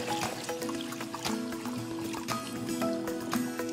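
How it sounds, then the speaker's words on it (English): Water poured into a mixing container for Trilex EverGol seed treatment, a steady liquid trickle and splash running continuously under faint background clatter, close and moderately loud. "Then you can mix half your water."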